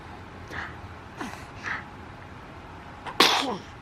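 A single sharp sneeze comes near the end, preceded by a few soft breathy intakes, close and fairly quiet against a low background hiss.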